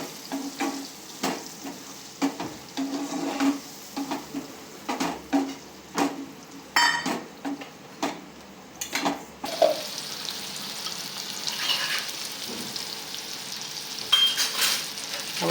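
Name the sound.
mashing tomatoes in a frying pan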